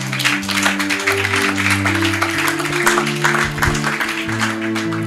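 A church congregation claps in praise, dense continuous applause over sustained organ or keyboard chords, loud and close throughout.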